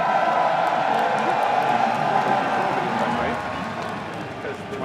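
A large esports arena crowd at a Team Liquid match roars and cheers continuously, a dense loud wall of voices with whoops that eases slightly toward the end.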